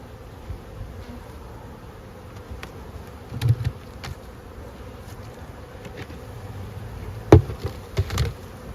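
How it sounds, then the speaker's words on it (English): Honeybees buzz around a hive being fed, a continuous low drone of many insects close by, broken by a few faint knocks and taps. "Look at all the wax they're building as a result of all the food coming in"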